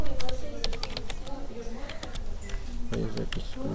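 A computer keyboard clatters with quick, uneven keystrokes as someone types a git commit message, close and clear, with a voice speaking briefly partway through.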